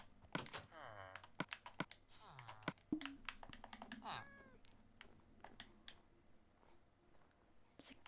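A Minecraft cat meows several times near the start, short rising calls among quick clicks and taps from a keyboard, fading into quieter tapping.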